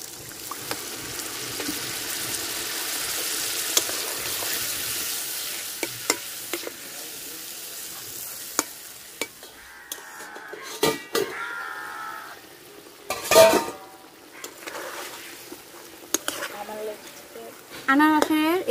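Pineapple simmering in a pot of lightly salted water, a steady close bubbling hiss running throughout, broken by occasional clanks and scrapes of a utensil against the pot, while a person talks over it.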